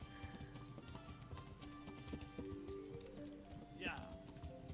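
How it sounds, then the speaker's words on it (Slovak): Horses plod along with steady clip-clop hooves in the medieval game Kingdom Come: Deliverance, set under a busy layered soundscape with a brief rising whinny-like call near the end. "A tu sú nejaké kone živé"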